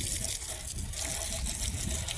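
Water poured out for pigs at a farm pen, a steady broadband splashing and trickling close by that runs unbroken through the whole short stretch.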